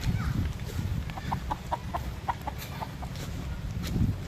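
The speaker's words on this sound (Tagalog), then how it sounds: "may mga alagang uh, panabong dito" Fighting roosters (gamecocks) kept on an island farm cluck in a string of short, fairly faint calls against steady outdoor background noise, with a person speaking faintly.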